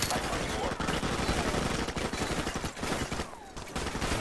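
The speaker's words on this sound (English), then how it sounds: "So now I'm getting shot from behind." Rapid automatic gunfire in Call of Duty Modern Warfare Remastered, coming from behind the player, dense crackling bursts at moderate level running almost continuously with brief gaps, under a voice talking.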